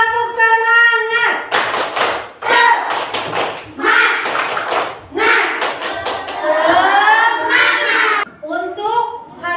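Elementary schoolchildren perform the rhythmic 'tepuk semangat' clapping chant in a classroom, sharp sets of group claps alternating with shouted chanting, loud and close, with a teacher's voice at the start.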